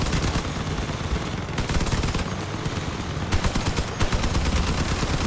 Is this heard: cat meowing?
no